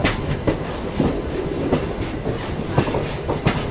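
Heard from on board, the 22158 Chennai Egmore–Mumbai CSMT superfast express rolls along the line with loud, steady clickety-clack as wheels strike rail joints at regular intervals over a continuous rumble.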